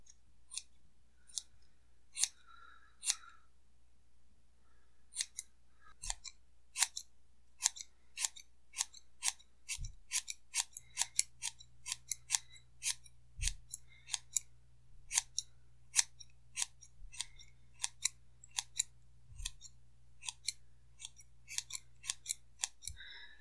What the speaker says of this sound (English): make sure you have a good pair of scissors, because this is not a good pair of scissors.